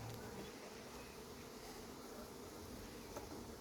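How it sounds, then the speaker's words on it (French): A wasp buzzes at a beehive in an apiary, a faint, steady, close insect drone with no talk. "C'est une guêpe qui a capturé quelque chose là-dedans."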